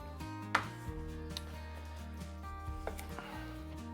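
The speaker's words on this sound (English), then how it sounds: "I'm going to peel half of that and then chop" A knife cuts a swede (neeps) in half on a chopping board, giving a few soft, quiet thunks spaced apart over steady background music.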